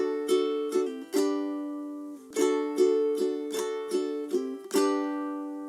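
Ukulele strummed in a down-up intro pattern on D then a single down strum on G, bright close chords ringing alone in clear repeated strokes for a song.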